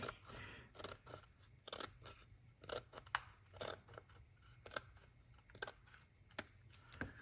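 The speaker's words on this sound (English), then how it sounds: "And then you just cut off the whatever is left over here, the overhang." Scissors snip through leftover paper overhang while trimming a craft treat box, giving quiet, close, irregular cuts spread across the stretch with small handling noises between them.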